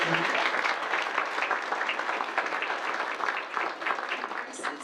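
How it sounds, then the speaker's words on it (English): An audience at a concert of art songs claps in steady, dense applause that fills the room for several seconds, fairly close and even in loudness. "our wonderful pianist Neely Abramson, so give her a round of applause"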